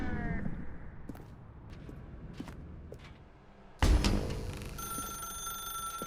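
A telephone rings in a video game, a short ringing burst at the start, then quiet footstep-like taps, then a louder electronic tone with a sustained high whine.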